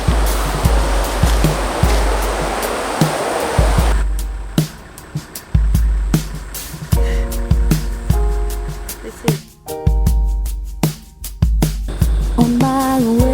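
Creek water flows and splashes at the spot where two creeks meet on Jirrbal Country, a steady close rushing wash broken by irregular knocks and clatters, with no one talking.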